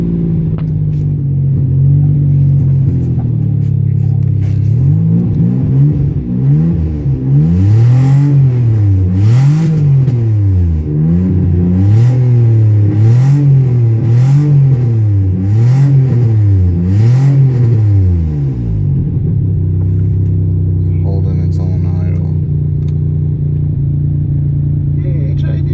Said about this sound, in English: That startup was disgusting. It's misfiring like a bitch.